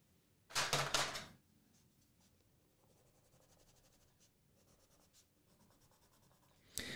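Pencil or pen scratching and rubbing across paper while sketching a cluttered still life, with a loud burst of quick strokes early on, then quieter intermittent scribbling and a brief final scratch.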